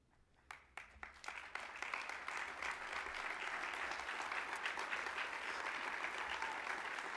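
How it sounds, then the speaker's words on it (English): A few scattered claps quickly swell into sustained applause from a crowd, continuing steadily to the end. "Do y'all know why you're clapping for Margaret right now?"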